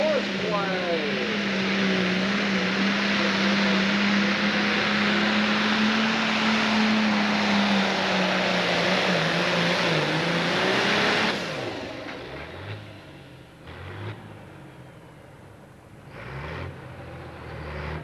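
A Pro Stock pulling tractor in the 10,000 lb class at a 1995 Connersville, Indiana pull, its engine roaring loudly with rising and falling revs before dropping off to quieter idling, with an announcer talking over it.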